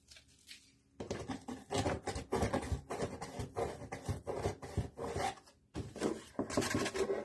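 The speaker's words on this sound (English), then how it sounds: "I think it's a rasp. Just going to give it a little bit of a sand here." A rasp files and sands a groove in a DIY controller, giving close, busy scratchy strokes in quick irregular bursts with a couple of brief pauses.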